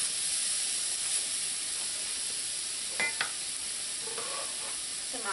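Smoked herring with added vegetables fries in a pan, a steady close sizzle and hiss with a few brief stirring scrapes.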